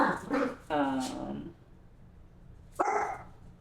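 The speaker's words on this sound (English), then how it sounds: "Oh, it's the dogs." Dogs at home growling and giving short barks and whimpers, a couple of separate bursts with quiet gaps between, close by and fairly loud.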